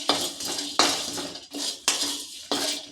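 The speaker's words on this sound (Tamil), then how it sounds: "சுக்கு ஏலக்காயை போட்டு நல்லா வறுபடுற அளவுக்கு நம்ம வறுத்துக்கிறோம்" Dry ginger and cardamom roast in a pan while a utensil scrapes across the metal in five evenly spaced, loud strokes. Each stroke carries a hissy rasp that fades before the next.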